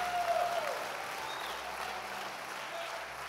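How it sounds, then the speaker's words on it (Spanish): A crowd at a church worship service claps steadily throughout, a broad continuous wash of applause with a brief voice or tone near the start. "dele un fuerte aplauso al Señor"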